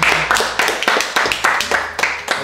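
Friends at a birthday party clap by hand, a bright, close, rhythmic burst of several sharp claps repeating in quick succession, loud and uneven, with little else behind them.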